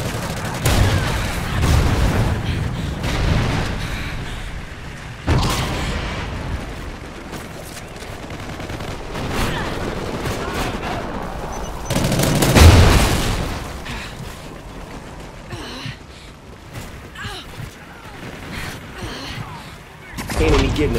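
Rocket strike and gunfire in Call of Duty Ghosts, a dense, continuous din of explosions and rattling shots with heavy booms, loud throughout, with a voice speaking over the battle noise.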